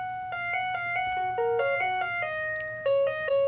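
Electronic school chime in Korea, a clear melodic sequence of sustained bell-like tones stepping up and down in pitch, moderately loud over a low steady hum.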